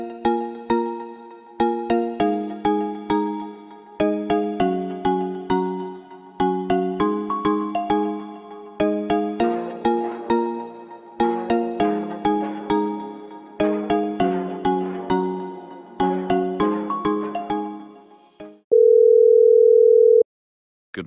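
A telephone call is placed: a looping melodic ringtone repeats in bright, plucked phrases for most of the stretch, then gives way to a steady sustained tone before a brief silence.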